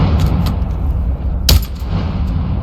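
A gunshot in the video game Into the Radius 2: one sharp, loud crack partway through, standing out over a steady low rumble of background noise, with a few fainter ticks before it and no talking.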